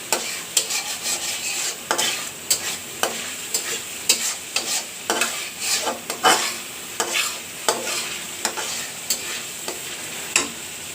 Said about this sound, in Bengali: এখন তেজপাতা দিয়ে দিচ্ছি, টমেটোর সস দিয়ে দিচ্ছি। ভালো করে নেড়ে চেড়ে নেব।